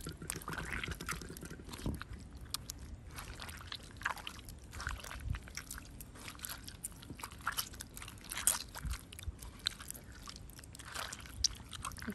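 Soaked wild mango peels are squeezed by hand in a village kitchen, giving wet squelching and dripping sounds with irregular soft crunches and trickles throughout.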